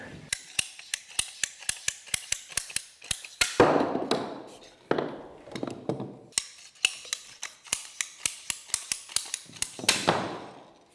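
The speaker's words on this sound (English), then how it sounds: "These things make cutting PVC so easy and clean." Rapid ratcheting clicks from a hand-held PVC pipe cutter biting through plastic pipe, arriving in quick bursts of sharp clicks with short pauses and crunching snaps as the blade squeezes through.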